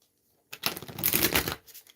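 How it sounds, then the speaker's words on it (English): A tarot card deck gets one quick riffle shuffle, a dense papery flutter lasting about a second, close and clear after a brief silence. "I'm going to shuffle, shuffle, shuffle."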